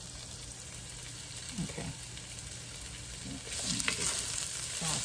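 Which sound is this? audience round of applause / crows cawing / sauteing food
sauteing food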